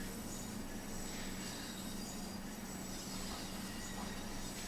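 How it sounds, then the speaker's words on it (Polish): Train Sim World 5 BR 112 locomotive rolling along the track, a continuous dense roar of wheels and rail noise with a steady low hum and faint repeated rattles, even and unbroken, with no talk. "Fajnie słychać stukot kół w tej lokomotywie na rozjazdach."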